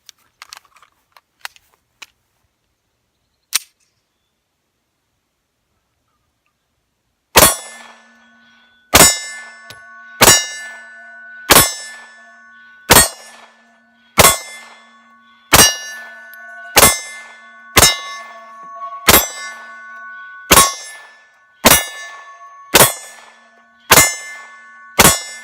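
Beretta pistol firing Remington UMC ammunition from a Beretta magazine, a few faint clicks at first and then about fourteen loud, sharp gunshots in a steady rhythm, each followed by a brief ringing tail.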